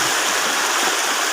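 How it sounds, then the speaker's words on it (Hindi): Mountain river stream rushing over rocks, a loud, dense, steady hiss of flowing water that stays constant and close, with no voices. "देखो भाई कैसे आ रहा है पानी, पानी कैसे नदी में ज़्यादा जमा हो जाता है"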